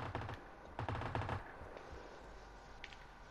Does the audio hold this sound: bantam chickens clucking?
no